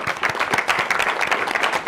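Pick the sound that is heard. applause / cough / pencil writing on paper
applause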